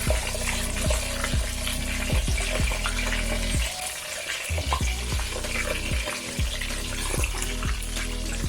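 Pompano fish frying in a pan over medium-low heat, a steady loud sizzle with crackling pops throughout, repeated lower thuds and stirring noises recurring every second or so, no talking.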